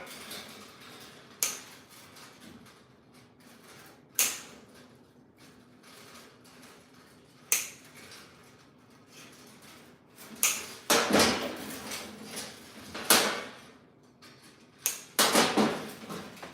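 Sharp metallic clacks and clatters of objects set on a bare metal table ring out sporadically, with a quicker cluster of knocks and scrapes toward the end, close and fairly loud.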